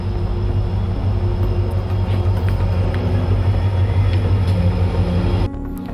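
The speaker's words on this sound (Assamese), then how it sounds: "1 নং বগলীয়া ৰেল আহি আছে" A Bogoliya passenger train runs past on the Harmoti railway line, a loud, continuous close rumble with metallic rattling that holds steady, then drops off abruptly near the end.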